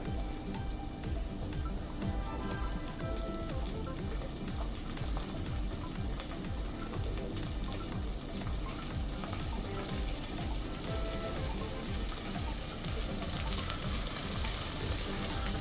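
Green chillies and curry leaves sizzle steadily in hot oil for a Kerala-style lemon pickle, a dense, even crackling fry close up that runs throughout without talk.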